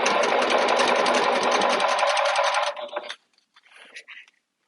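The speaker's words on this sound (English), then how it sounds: "just sew 1/8 of an inch away from that center line, and you're going to fold and sew down the entire way" Sewing machine stitching the strap loop of a fabric tote bag, a steady rapid mechanical whir close by for nearly three seconds, then stopping with a few small clicks and rustles.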